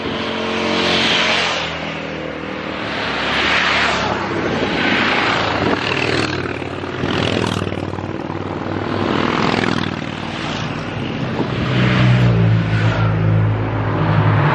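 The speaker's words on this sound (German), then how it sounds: "Aber die Biker heizen hier auch durch, ne?" Motorcycles roar past one after another on the Susten Pass mountain road, their engines rising and fading in loud, close sweeps that overlap into a steady revving din with no talk.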